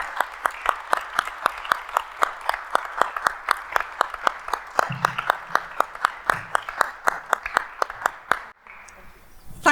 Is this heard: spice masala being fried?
no